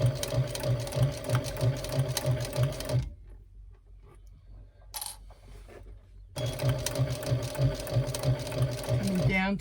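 Sewing machine stitching along a handbag binding, its rapid mechanical whirr running steadily, pausing for a few seconds of near quiet with a small click, then resuming at the same brisk pace.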